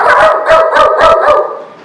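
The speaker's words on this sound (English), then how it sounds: "Barking dogs" Dogs bark loudly and close in a quick run of about six sharp, evenly spaced barks, with no voices over them.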